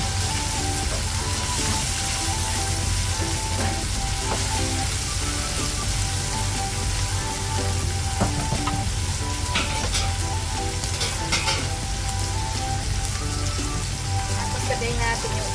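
Dried scallop and dried oyster sizzle and crackle loudly in a hot frying pan, a dense, steady hiss with scattered pops that runs throughout.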